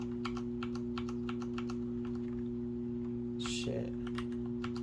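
Rapid keystrokes on a computer keyboard clatter in a steady, close stream, with a brief chirp-like beep partway through over a constant electrical hum.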